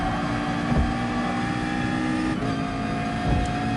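McLaren race car engine in Gran Turismo Sport, a steady high-revving drone with slight pitch shifts throughout, loud and continuous with no voices.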